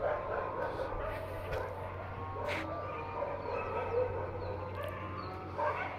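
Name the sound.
dogs barking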